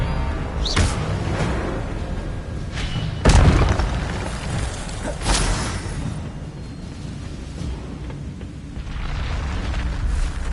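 Incendio fire spell cast in the Hogwarts Legacy video game, a sharp whooshing burst and a heavy boom over a rumbling, busy ambient bed, with a few more softer bursts following.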